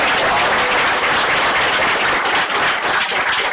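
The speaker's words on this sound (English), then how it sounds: "Let's just give our Hess Scholar one last round of applause" A loud, close round of applause for the Hess Scholar rises at the close of a university event, with continuous clapping that stays full and even throughout.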